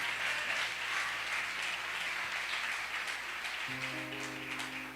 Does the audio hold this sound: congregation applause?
yes